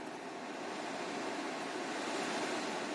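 Opel Corsa D climate-control blower fan on its normal setting, about fourth speed, gives a steady, even airy rush close to the microphone, with no talk over it.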